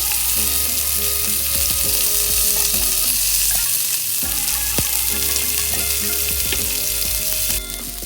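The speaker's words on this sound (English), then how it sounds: "Fry the fish till it is completely cooked." Norwegian mackerel fries Indian style in a pan with a loud, steady, close sizzle. Faint clicks and stirring scrapes are scattered through it, and the sizzle drops slightly at the very end. No one speaks.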